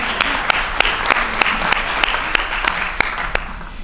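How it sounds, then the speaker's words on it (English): Applause from a crowd at a college campaign event, dense, steady clapping throughout with sharper individual claps standing out near the listener. "That deserves an applause."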